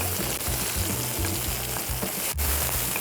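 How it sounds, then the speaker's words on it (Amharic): Onions frying in butter in a pan, a steady broadband sizzle with a faint crackle throughout, close and fairly loud, no voices. "ካረግን በኋላ ሽንኩርት እናደርጋለን። ወላ ሽንኩርት ይገባል።"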